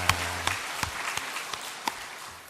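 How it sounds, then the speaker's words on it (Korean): A short burst of applause from a church congregation during a Sunday service, individual claps standing out near the start before fading away. "우리 하나님께 영광의 박수 올려드립니다."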